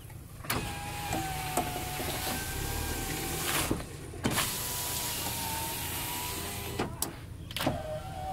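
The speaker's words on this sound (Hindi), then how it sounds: "अभी थोड़ा सा पावर स्टीयरिंग के साथ साथ इस गाड़ी का पावर विंडो भी आपको दिखाएंगे हम।" An electric window motor on a homemade electric car whirs steadily through most of the stretch, with a few sharp clicks and thumps as the glass starts and stops, close and fairly quiet.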